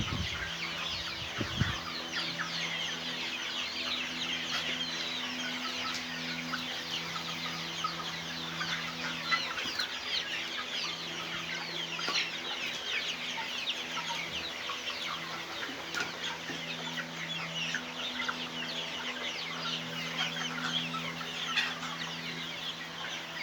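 Chickens cluck and murmur steadily around a small poultry yard, many soft overlapping clucks and occasional louder calls continuing for over twenty seconds against a faint background hum.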